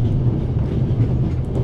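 Train in The Raven video game slowing to a stop, a steady loud low rumble of rail carriages with faint clatter, continuous throughout with no talk.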